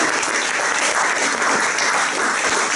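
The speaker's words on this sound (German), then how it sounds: "Einen Applaus natürlich jetzt auch für Herrn Walter Bahr" Steady applause from an audience at a Vienna family forum event, greeting the man introduced to chair the discussion; dense, continuous clapping at close range with no talk over it.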